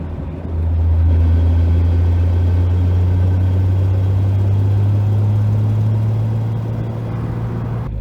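A 2JZ engine with a Tilton ST246 clutch and CD009 gearbox holds a steady, loud low drone in first gear at low speed with the brake lightly held, running continuously with no pauses.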